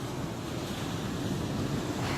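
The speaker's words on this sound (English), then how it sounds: "we're at the ocean" Ocean surf rolling in at the shore, a continuous loud roar of breaking waves mixed with gusty wind buffeting the microphone.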